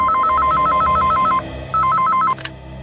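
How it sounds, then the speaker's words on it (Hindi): Telephone ringing loud and close, a rapid warbling electronic trill in two bursts separated by a short gap, then cut off abruptly, with no talk over it. "किसका फोन है?"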